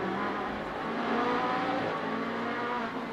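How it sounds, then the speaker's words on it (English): Daytona prototype race cars from the 2012 GRAND-AM Detroit 200 roar past on a street circuit, a steady loud engine drone swelling slightly midway as the pack whips by. "You got an idea there of the Daytona prototypes whipping on by"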